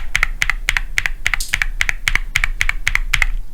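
Typing on a keyboard fitted with stock, unlubed G Square Dreamland linear switches: a close, even run of about a dozen crisp clacks in steady rhythm, with no voices.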